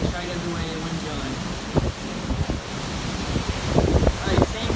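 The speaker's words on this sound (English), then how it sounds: "Really windy, so let's try it every way and wind's going." Strong wind from Hurricane Irma in Florida in 2017 buffets an outdoor microphone in a steady roar with gusty rustling bursts, while someone speaks over it.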